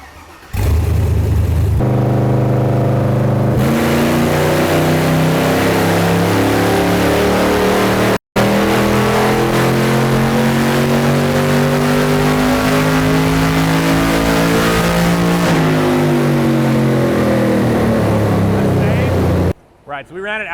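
An American V8 engine in a Porsche 911 with an automatic transmission revs on a dyno run toward 7,000 RPM, a loud, continuous engine roar climbing in pitch and then dropping back, with a brief cut near the middle.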